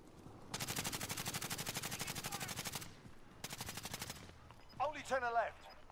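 Rapid automatic gunfire in a battle royale video game, two sustained bursts of evenly spaced shots with a short gap between them. A voice speaks briefly near the end.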